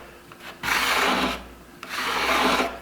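A card scraper drawn across a figured wood board makes two close, raspy scraping strokes, each a broad hissing rub, with a short pause between them.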